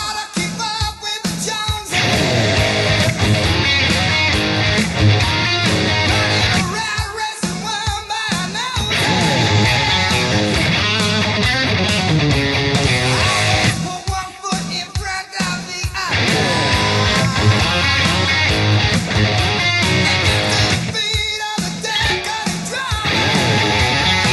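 Loud, distorted electric guitar plays the verse rhythm, with chugging accented chords and short choppy breaks between phrases, sustained for over twenty seconds.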